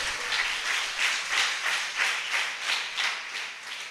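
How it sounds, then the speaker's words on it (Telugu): Audience applause fills a church during a Passover festival service, a dense, steady clapping with a loose rhythmic swell, heard alone without speech. "చప్పట్లు కొడదాం గట్టిగా."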